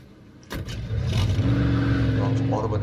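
A car engine in the video game Mafia 2 cranks and starts, then revs with a rising, steady drone while a voice talks over it.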